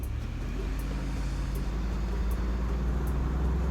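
A RAM 2500 pickup truck hauling a trailer and accelerating, a steady low engine drone with road rumble heard from inside the cab, constant and moderately loud, with no talking.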